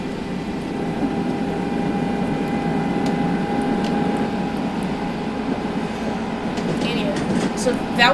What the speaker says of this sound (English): it looks like it's gaining power, so the Class 261 is back in motion